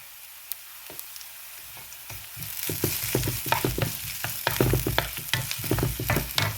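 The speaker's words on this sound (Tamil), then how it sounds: "வெங்காயம் கொஞ்சம் வதங்கிட்டுது. இப்போ இஞ்சி பூண்டையும் போடுறேன்." Onion, ginger and garlic sauté in an oil-filled pan for Tamil-style tomato rice, a steady close sizzle that swells louder partway through with scraping stir strokes and crackling pops, no voices.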